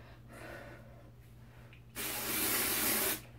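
A short burst of hissing hairspray lasting about a second, close and loud, after a quieter stretch with faint rustling and breathing.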